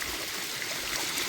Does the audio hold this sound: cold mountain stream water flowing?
yes